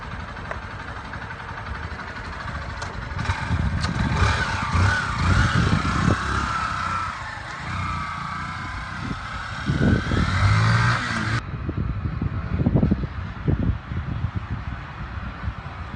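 A motorcycle fitted with a helmet-sensing safety system that only lets it start when the rider's helmet is in place runs close by, its engine surging in repeated revs with an idling rumble in between. No voices are heard.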